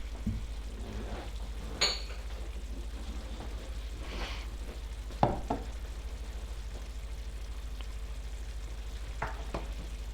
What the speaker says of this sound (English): Into this pan we're going to melt some butter.